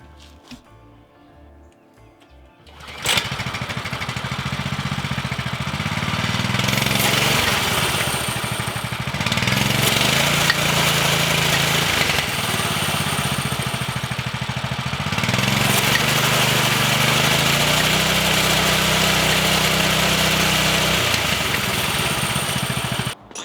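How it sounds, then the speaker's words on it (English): A Coleman BT200X mini bike's small engine starts after a quiet moment, then runs loudly and close, with revs rising and falling in a few surges before settling back. "Let's give this thing a little go and see how she runs."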